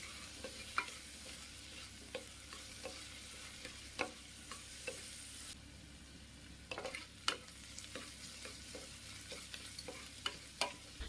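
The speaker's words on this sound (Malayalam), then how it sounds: "ഇനി അതും കൂടെ ചേർത്ത് നല്ലതുപോലെ ഒന്ന് വഴറ്റിയെടുക്കാം." Onion with crushed ginger and garlic sautéing in a pan for potato curry, a soft steady sizzle punctuated by sharp scrapes and taps of a stirring spoon, close and fairly quiet.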